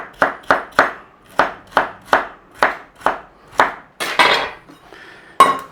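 A carrot being diced into small cubes for a pork and apple cottage pie, knife striking a cutting board in a quick run of about ten sharp chops, followed by a few scraping clatters and one final chop, close and clear.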